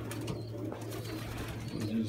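Pigeons cooing softly at a loft, low murmuring calls repeating faintly over a steady background hum.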